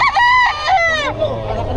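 A rooster crows loudly and close by at a crowded chicken market in Bocaue, one full drawn-out cock-a-doodle-doo followed by faint background market noise.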